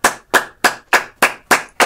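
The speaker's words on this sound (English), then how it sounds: "let's clap for this person that has clicked today" Seven sharp hand claps at a steady, even pace, loud and close with no voices.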